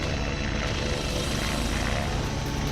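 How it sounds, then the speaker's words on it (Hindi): A helicopter carrying a chief minister lifts off and drifts backward, its rotor and engine drone loud, steady and close without any voices. "इस दौरान जब हेलीकॉप्टर ने उड़ान भरी तो वहां पर मौजूद लोगों की सांसें थम गईं।"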